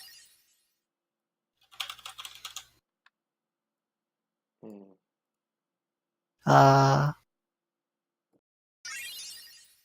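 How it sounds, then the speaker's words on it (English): Short bursts of rapid keyboard clicking, close and fairly quiet, separated by silence and a few soft vocal sounds. "I'm smashing my keyboard."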